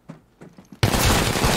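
A few faint taps, then a sudden burst of loud, continuous gunfire erupts and sustains to the end, dense and close, in the video game Apex Legends.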